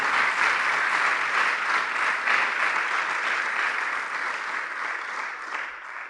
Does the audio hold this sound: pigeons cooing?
no